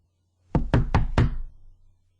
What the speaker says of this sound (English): What's he that knocks as he would beat down the gate?